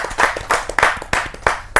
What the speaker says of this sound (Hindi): जोरदार ताली के साथ हम